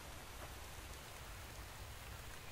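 Steady rain falls in the video game The Infected, a soft, even hiss of drops on surfaces that continues without a break, fairly quiet and with no voices over it.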